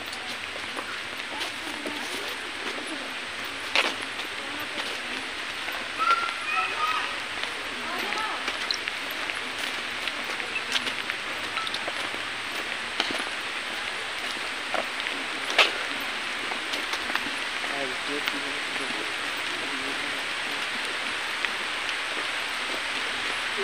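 Rain falls outdoors at Ormanjhi zoo park in Ranchi, Jharkhand, a soft, steady hiss of drops with scattered louder taps and rustles, while people talk faintly at times.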